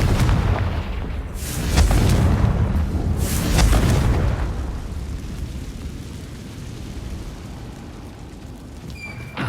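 A Confringo spell blast in Hogwarts Legacy, two deep rumbling booms close together that roll into a long, slowly fading roar.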